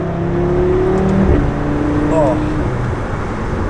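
Audi RS3 with an Integrated Engineering Stage 1 tune, its engine note rising and shifting in pitch as it revs, loud and close, with a continuous roar underneath.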